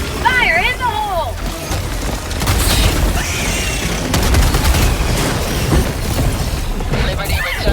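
Grenade blasts and gunfire in the Helldivers game, dense booming explosions and rattling shots over a continuous battle din, with voices shouting over the noise.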